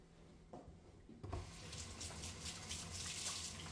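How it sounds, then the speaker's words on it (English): A sink tap runs steadily while hands are washed during bread making, close and continuous with a faint splashing texture and no talking. "I'm going to wash my little hands real quick"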